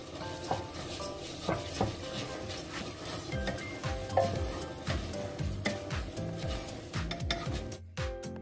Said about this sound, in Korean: 이렇게 끓어오른 참기름에다가 내장을 먼저 넣어서 볶아서 냄새를 없애면